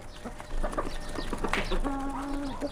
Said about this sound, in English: While Marina, the daughter, feeds the chickens and ducks, Larissa searches for the eggs